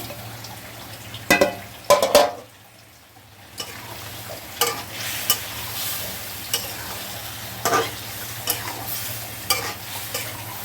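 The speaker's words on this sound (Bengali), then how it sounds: "আলুটা দিয়ে কষে নেবো" Potatoes sautéed with spices in a pan for a Bengali chital fish muitha curry, with intermittent scraping stirs and soft background sizzle, close and moderately quiet, no talking.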